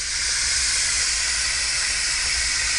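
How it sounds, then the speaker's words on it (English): An electric pressure cooker vents its steam in one loud, sustained, close hiss that stays even from start to finish, with no speech. "I'm going to release pressure."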